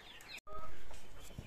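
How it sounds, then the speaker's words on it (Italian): Hens clucking on a farm kept alongside ducks, a few close, soft clucks over outdoor background noise. "Eccole queste due gallinelle"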